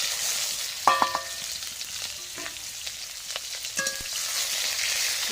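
Chopped onions sizzle in a pan of hot oil with bay leaves. A sharp burst of spattering marks where the onions go in, then a continuous hiss with scattered pops, heard up close and without speech.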